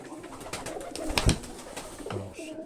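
A racing pigeon coos softly amid some nearby clatter, with one sharper knock partway through before a low cooing phrase closes it out.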